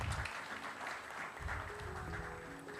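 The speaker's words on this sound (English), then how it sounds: "Can we welcome them with a round of applause" Applause from a seated audience at a campus student-immersion event inauguration, a sustained crowd clapping that stays steady and fairly loud throughout, with faint voices beneath.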